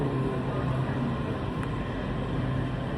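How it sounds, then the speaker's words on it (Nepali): A Vietnamese metro train pulls into a station where passengers are queued on the platform, giving a loud, steady broadband rumble and roar that holds throughout without clear pauses. "ट्रेन आयो"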